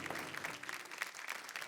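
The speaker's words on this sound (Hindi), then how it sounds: "जोरदार तालियां" Audience applause on a folk singing reality show stage: dense clapping from a crowd for nearly two seconds, fairly steady and moderately loud, with no speech over it.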